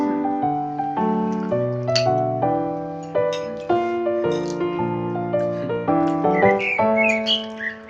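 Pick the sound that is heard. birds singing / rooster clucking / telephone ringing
birds singing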